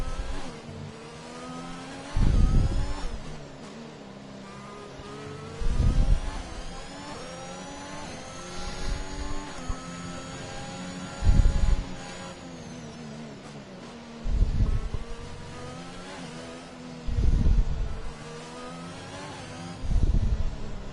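Racing car engines in a Formula-style racing video game howl at a steady drone down a DRS straight, with surging pitch sweeps and rhythmic low thumps as the cars shift through the gears.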